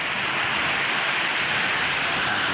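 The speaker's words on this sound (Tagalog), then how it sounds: "Grabe po ang ulan na dito mga kabarbers." Heavy typhoon rain pours steadily onto surfaces near a small barbershop, a loud, dense, unbroken hiss with no talking.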